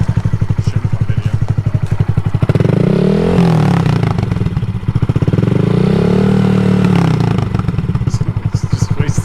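Motorcycle engine idling in neutral in a yard, close and loud, a steady rapid putter with a few blips of rising revs in the middle, and faint voices underneath.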